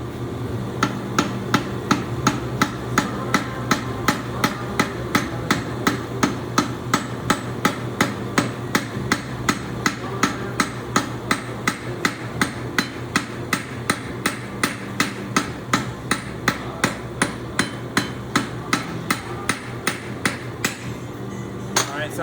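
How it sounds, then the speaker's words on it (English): Steady rhythmic ringing blows of a rounding hammer on a hot steel bar, about two to three strikes per second over twenty seconds, loud and close, forging out the end of a strap hinge with no talking. "rounding hammer on that just to kind of squish that material out like that"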